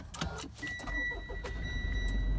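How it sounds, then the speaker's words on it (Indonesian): A Mitsubishi Pajero Sport Dakar is started with its push button, and a low engine rumble rises after about a second and idles steadily, with a faint thin whine running above it. "Pertama-tama kita nyalain mesinnya dulu. Tombolnya di sini, kita tinggal pencet aja."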